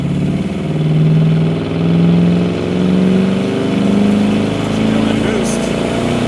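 A supercharged 1964 Studebaker Avanti accelerates in second gear, its engine note rising in long steady surges with a pulsing hum underneath, loud and close from inside the car.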